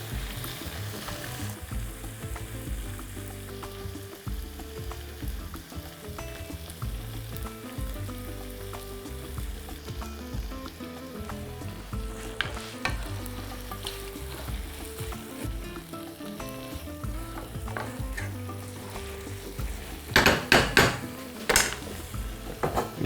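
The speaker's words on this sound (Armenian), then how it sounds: "և գցում տապակվող մթերքների վրա" Shrimp sizzle with mushrooms in a hot pan, a steady close frying hiss under repeated stirring, with utensil clinks and scraping against the pan near the end.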